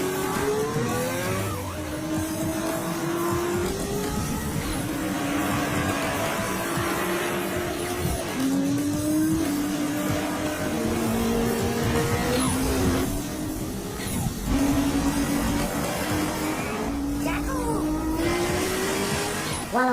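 Two cars race each other flat out on a public toll highway, engines revving hard through repeated rising gear pulls, with intermittent tire squeal and whooshing passes, loud and close throughout.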